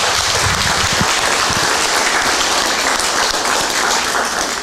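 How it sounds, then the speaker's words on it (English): A crowd applauds loudly and continuously at a school National Letter of Intent signing for student athletes, a dense wash of clapping with a few distinct claps near the start. "One more round of applause for Lauren Sattler."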